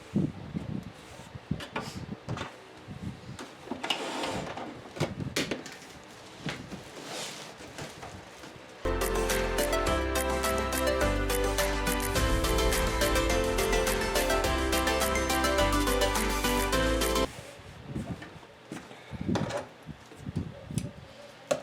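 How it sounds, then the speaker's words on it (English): A sewing machine stitches around an oven mitt steadily for several seconds with a dense mechanical whir, framed by quieter handling and rustling sounds before and after. "now we're going to take it to the sewing machine and we're going to sew all the way around it"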